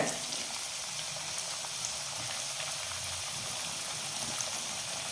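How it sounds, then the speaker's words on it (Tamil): Potato pieces frying in oil over a medium flame for potato curry, giving a soft, steady, even hiss of bubbling oil at low volume with no voices over it. "மீடியம் ஃப்ளேமில் வச்சு இதை அப்படியே பொறிச்சு எடுத்துக்கலாம்"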